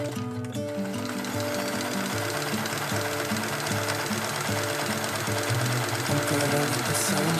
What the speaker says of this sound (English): and then I can sew the side seams.